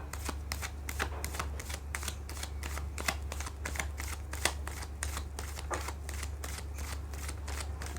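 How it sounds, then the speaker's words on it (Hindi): Tarot cards being shuffled by hand, a continuous soft flutter of rapid card slaps and riffles over a low steady hum, close and quiet, with no talk. "मैं कर लेती हूँ कार्ड की शफलिंग।"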